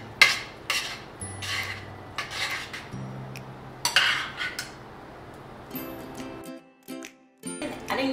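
Mixed vegetables, including peas, tipped into a chicken pot pie filling a little at a time, giving scattered clinks of a utensil against a pot or dish and soft rustling, close by, with a quieter stretch near the end.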